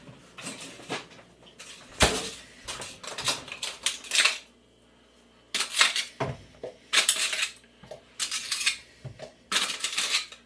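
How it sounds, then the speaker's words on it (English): Ice cubes drop and clatter into a blender jar for a smoothie, in bursts of sharp hard clinks and rattles separated by short quiet gaps, close and fairly loud. "And I'm going to put some ice, and this is going to be just like a smoothie"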